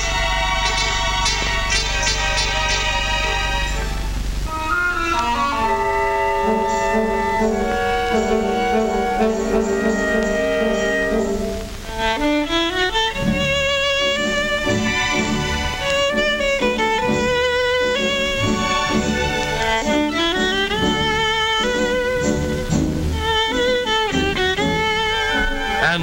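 A Stradivarius violin plays a tune as a solo over orchestral accompaniment, bowed melodic lines sustained and expressive, loud and continuous throughout with no talking.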